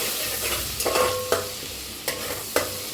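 Cumin, ginger and green chili paste fry in a pan with a steady close sizzle, punctuated by several sharp scraping stirs of a spoon, no voices.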